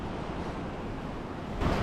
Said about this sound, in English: we watched the rough sea smashing against the rocks